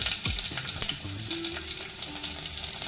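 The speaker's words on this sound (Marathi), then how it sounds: "आता यामध्ये जिरं टाकायचं आहे" Cumin seeds hit hot oil in a pan already holding mustard seeds, giving a steady close sizzle with a brief crackle and scrape of stirring, no talk.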